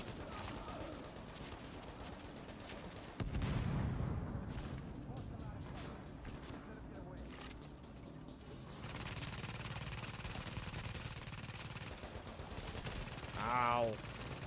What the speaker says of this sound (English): There's a turret right there.